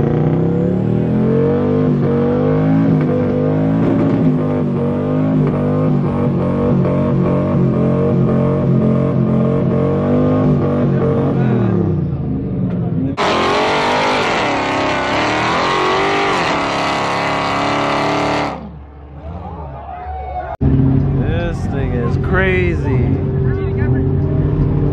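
A Dodge Demon at a drag race roaring as it accelerates, with loud, close engine revving that rises in pitch. A sharp, high burst follows, then further engine noise while people talk over it.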